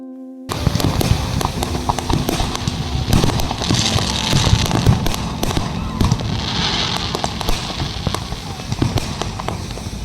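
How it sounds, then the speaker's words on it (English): New Year fireworks at Benolim Beach in Goa crackle and pop continuously at a busy outdoor celebration, with dense rapid bursts over a steady crowd hubbub. "New Year was welcomed at Benolim Beach with spectacular fireworks."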